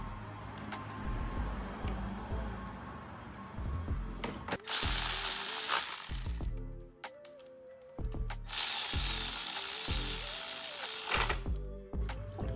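A power tool tightens a power steering pump bracket bolt on a 2008-2012 Honda Accord 2.4L, with two loud bursts of whirring and rattling separated by a short pause, amid quieter workshop clinks.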